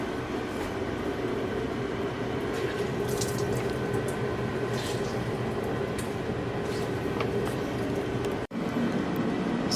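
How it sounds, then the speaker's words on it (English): Steady watery trickling and dripping as excess water is squeezed by hand out of food-processed pesto ingredients, a continuous close wash of sound with a brief dropout near the end. "squeezing out all the excess water"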